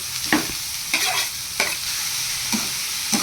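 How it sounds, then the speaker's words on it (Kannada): Onions, green chillies and curry leaves frying in oil for beetroot palya, a constant hiss punctuated by four or five distinct scraping stirs of a spoon against the pan, close by with no talking. "ಈರುಳ್ಳಿ ಹಾಕ್ಕೊಂಡಿದ್ದೀನಿ ಈರುಳ್ಳಿಯಲ್ಲಿ ಫ್ರೈ ಆಗಬೇಕು"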